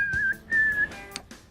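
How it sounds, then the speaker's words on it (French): A series of short, high whistled tones encoding data, two longer held whistles followed by brief chirps and clicks, close and clear, with no speech. "Les données sont converties en une série de sifflements."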